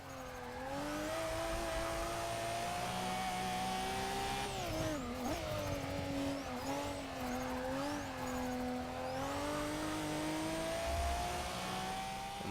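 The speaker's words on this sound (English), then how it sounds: "Okay, now we're picking up the speed again out of that corner." A fully modified all-wheel-drive JDM car in Forza Motorsport 6 accelerates out of a corner, its engine note climbing loud and close, dipping briefly between gear shifts and rising again with a faint tire squeal.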